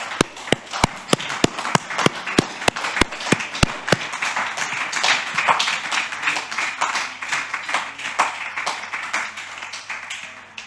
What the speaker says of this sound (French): est-ce qu'on peut louer le Seigneur un instant, applaudir le Seigneur?